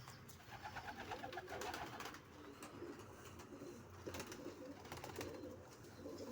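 Pigeons coo steadily from a loft of birds, layered soft throaty calls overlapping at moderate distance with faint chirps mixed in and no talking.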